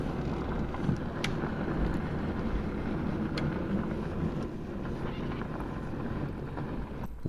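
VW Golf Mk2 that sat unused for years, out on a test drive: steady engine and road rumble with wind buffeting throughout, a continuous broadband roar at an even level with no talk.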